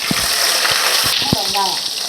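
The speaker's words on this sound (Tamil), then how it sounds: "கடுகு சீரகம் பொரியுதுமா" Mustard and cumin seeds pop and sputter in hot oil as sambar is started. A loud, steady sizzle carries several sharp crackles and faint speech-like sounds underneath.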